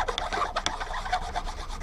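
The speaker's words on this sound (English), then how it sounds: "But this is brass, and a rusty old file." A rusty old file rasps across a small brass workpiece held in a vise, making a close, scratchy scraping with several short uneven strokes over a couple of seconds.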